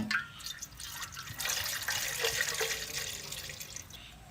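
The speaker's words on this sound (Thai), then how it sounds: "ใส่น้ำต้ม" Water pours into a cooking pot for boiling with a steady, faint splashing and trickling that lasts throughout.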